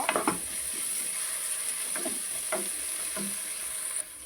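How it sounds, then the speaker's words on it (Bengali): Chopped green chilies fry with ginger garlic paste in a pan for a brinjal rezala, a soft, steady sizzle broken by a few faint stirring scrapes, with no voices. "এখানে আমি তিনটে কাঁচা লঙ্কা কুচিয়ে রেখেছি এটা দিয়ে দেবো দিয়ে এটাকে ভালো করে এর সাথে ভেজে নেব"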